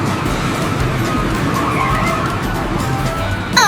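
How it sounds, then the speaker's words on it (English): Bumper cars at an amusement park roll and skid in a continuous, steady rumble of motors and rubbing tires, ending with a brief high squeal. "Here's the bumper cars! Let's see who's the best driver."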